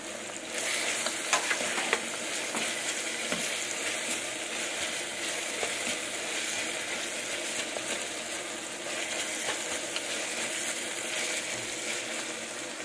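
Ingredients frying in a pan are stirred, giving a constant loud sizzle with scraping and clinking from the spoon against the pan throughout, and nobody speaks.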